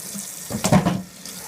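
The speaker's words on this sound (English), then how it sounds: "Get all that soap off your fingers. Nice hot water." Hot water runs from a sink tap, first a faint trickle, then a louder splashing burst as hands wash under the stream, easing back to a steady flow, with no talking.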